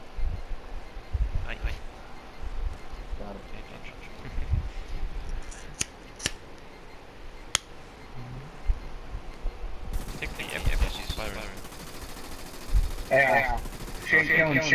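Gunfire in a military shooter game: several sharp, isolated shots cracking out over a quiet background, then a denser burst of firing and noise near the end, with voices talking at times.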